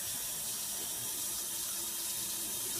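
Water runs steadily from a tap to wet the end of a paintbrush, a constant loud hissing splash at close range with no pauses and no talk.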